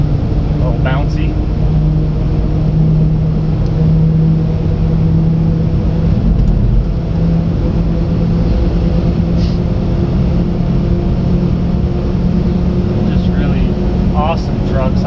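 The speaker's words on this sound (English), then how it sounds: "tires are a little bumpy in this thing and a little loud because they are a UTV tire and a bias ply" A Japanese mini truck rolls along on bumpy, loud bias-ply UTV tires, with a steady low engine and road drone and a persistent hum heard from inside the cab.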